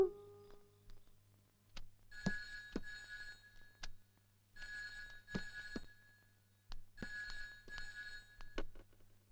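Old telephone at a post office ringing in repeated double bursts of a bright electric bell, fairly close and clear in a quiet room, with no talking.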